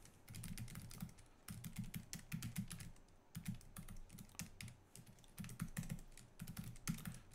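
Fingers type a C program on a computer keyboard in quick, irregular bursts of clicking with brief pauses between them, quiet and close, with no voices.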